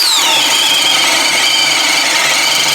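Power drill spinning a 7/8 inch Bosch Daredevil spade bit, a loud steady high whine with a faint falling squeal at the start, continuous and alone for a few seconds.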